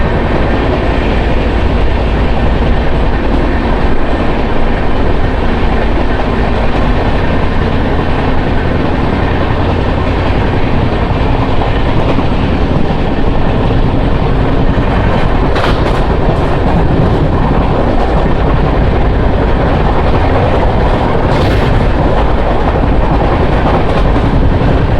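Janmabhoomi Superfast Express, train 12806 from Lingampalli to Visakhapatnam, runs at speed through a station without stopping, a loud continuous rumble and rattle of wheels and carriages heard from on board, with no talk.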